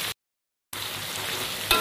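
Turmeric-coated chicken pieces frying in hot oil in a pan for village-style ayam goreng kunyit, a steady close sizzle after a brief silent gap, with a louder crackling burst near the end.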